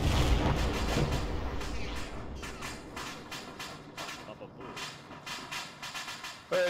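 Explosive charge detonating in a military video game, a loud booming blast at the start followed by rumbling debris and intermittent thuds, with radio voices talking over the aftermath.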